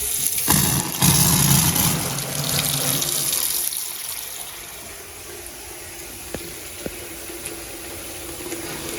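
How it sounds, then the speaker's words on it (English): Water runs steadily from a Delta faucet into a newly installed double bathroom vanity sink basin, loud at first and then settling into a softer, even flow with a couple of faint clicks near the end. "Let's go ahead and put some water in the basin"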